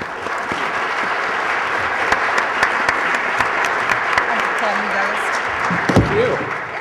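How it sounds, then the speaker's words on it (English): An audience applauds panelists after a discussion on social media techniques, a loud, full burst of sustained clapping with scattered crowd murmurs and a brief voice near the end. "Could you join me in giving a round of applause to our panelists?"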